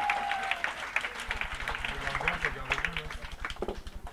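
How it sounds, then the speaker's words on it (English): Audience applause at a rock and roll comedy show at Café Largo in Hollywood: loud, sustained clapping from a crowd, with music and voices mixed in underneath. "Much bigger round of applause for Dave."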